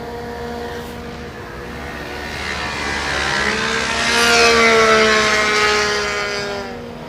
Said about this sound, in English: the Arctic Cat, you listen to the whine, is similar to both the Can-Am and the Yamaha, and they run 3 cylinders